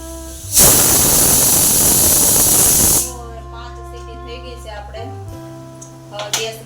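A loud, steady hiss of steam from a pressure cooker boiling corn gushes for about two and a half seconds, then cuts off, leaving a quiet kitchen hum.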